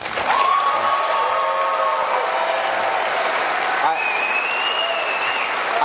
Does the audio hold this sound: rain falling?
no